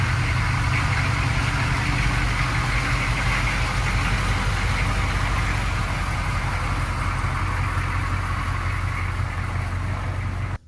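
A 1986 Chevy Blazer military diesel engine idles steadily and close by, a continuous low rumble with a rhythmic chug and no voices, holding level for about ten seconds before cutting off abruptly at the end.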